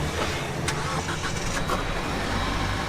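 Jeep Wrangler engine cranking and catching, a steady mid-range motor rumble with a few brief higher whirs, heard from close by with no talk.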